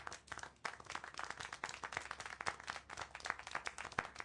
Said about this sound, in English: How can you clap? Oh? So you like the noise, do you?